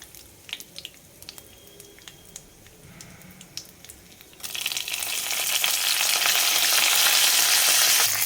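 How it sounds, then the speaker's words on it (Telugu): Curry leaves and three dried red chilies hit hot oil with a sudden loud sizzle that swells and holds steady after a stretch of quieter pan clinks and taps. "కరివేపాకు వేద్దాం."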